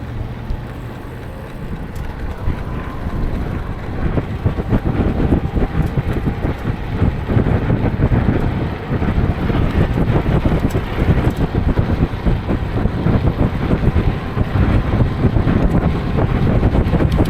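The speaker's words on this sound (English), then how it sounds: "And we got the wind." Wind buffets the microphone during an e-bike ride home through Orange County in a heat wave, a steady low roaring rumble that runs throughout and grows a little stronger after the first few seconds.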